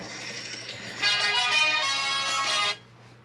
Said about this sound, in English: now my assistant has gone and the phone's ringing